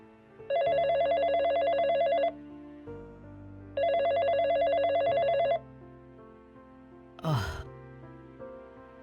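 An old-style telephone bell rings in two long bursts with a pause between, followed by a short gasp-like sound and a faint sigh.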